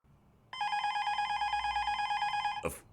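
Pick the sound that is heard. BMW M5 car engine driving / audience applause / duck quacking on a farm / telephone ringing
telephone ringing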